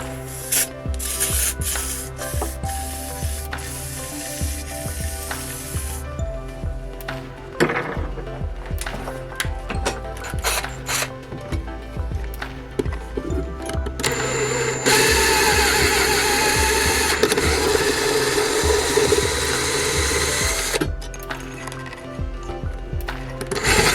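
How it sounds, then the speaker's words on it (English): A power drill whines and grinds against a metal oil sump baffle for an RB26DETT engine in repeated bursts, then a long sustained stretch of high-pitched drilling, up close and loud. "So let's drill them."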